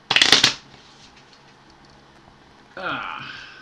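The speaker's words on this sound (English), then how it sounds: "these are not shuffling well." Cards from a new Sniper Kill Confirmed board game are riffle-shuffled, with a loud, quick burst of fluttering clicks at the start. After a quiet pause comes a second, softer shuffle or bridging rustle. The sounds are close and come alone.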